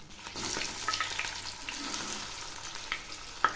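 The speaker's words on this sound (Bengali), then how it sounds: "তেল গরম হয়ে গেছে, এখন আমি বেসন দিয়ে মাখায় এই মোচাটা আমি এর মধ্যে ছেড়ে দিলাম" Gram-flour-battered banana flower frying in hot oil, a steady soft sizzle and bubbling throughout with a couple of brief utensil clicks.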